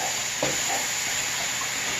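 Food sizzling steadily in a frying pan while being stirred, a continuous close hiss with a brief scrape of the spoon early on.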